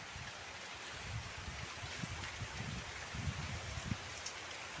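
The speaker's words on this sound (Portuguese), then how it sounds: "Bom, povo abençoado, tá chovendo." Steady rain falls outdoors in a wide, even hiss with scattered soft drops and low patters, moderately loud and continuous, with no one talking.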